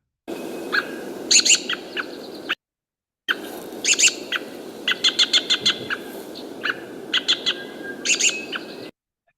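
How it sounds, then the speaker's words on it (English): Repeated sharp American robin alarm notes in quick rhythmic series, loud and close over steady background hiss, with a brief gap of silence partway. "listening for the American robin alarm call. And this is what that sounds like."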